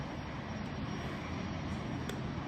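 An airplane approaches Concord airport, its engine a steady, broad drone that holds at an even level throughout the short stretch with no talk.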